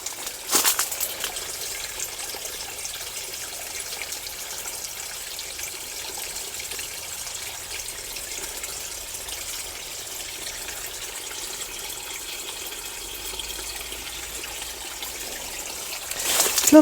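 A small garden stream spills over a little natural waterfall into a pool, a steady soft rush of flowing water continuing throughout, with brief louder splashes at the start and end.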